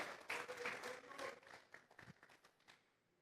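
A church congregation claps as an offering of praise, a brief, faint burst of clapping with a few distinct claps trailing off near the end.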